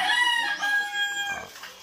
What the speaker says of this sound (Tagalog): Bali yung mga nakahiwalay na tandang.